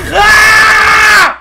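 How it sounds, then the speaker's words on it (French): People scream together in a game session, one sustained, loud, piercing shriek lasting over a second before cutting off abruptly. "Il a crié pendant super longtemps."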